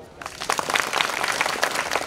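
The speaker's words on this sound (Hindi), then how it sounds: "इनके लिए एक जोरदार ताली।" Clapping from an audience of officer cadets at a career academy event, a brief burst of applause that quickly swells and holds.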